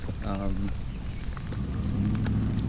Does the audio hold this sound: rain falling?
yes